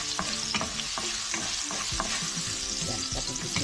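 Ginger pieces fry in a hot pan with a loud, continuous sizzle, broken by repeated scrapes and clacks of stirring.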